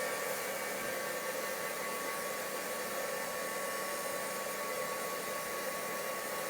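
A hair dryer blows steadily on bleached freezer paper during a double-exposure shaping project, a continuous loud airy whoosh with a faint high whine, unbroken and alone for several seconds.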